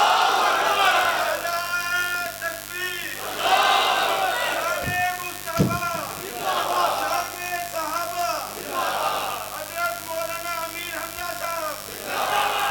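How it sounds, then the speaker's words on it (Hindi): A large crowd chants the takbir slogan Allahu Akbar at a Seerat-un-Nabi conference in Faisalabad, with loud, repeated rhythmic calls ringing out across a big gathering. "वो एक ही नारा है तकबीर का"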